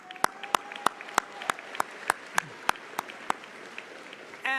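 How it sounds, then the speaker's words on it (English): Applause for graduates at a Class of 2026 high school graduation ceremony: about a dozen sharp, evenly spaced claps in a steady rhythm, fairly distant and light rather than a dense roaring crowd. "Let's give our graduates one more big round of applause, everyone."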